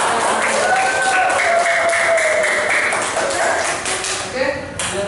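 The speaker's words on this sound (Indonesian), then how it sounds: "Tepuk tangan untuk" Students applauding in a classroom during a computational thinking lesson, a sustained wash of clapping hands at close range, with chatter and voices running underneath.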